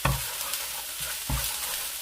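Garlic and ginger paste frying in a pan while cooking Korean spicy chicken, a steady sizzling hiss with a couple of soft stirring thumps, close and alone.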